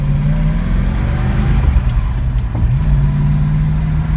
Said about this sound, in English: Dual exhaust has a good sound from the 289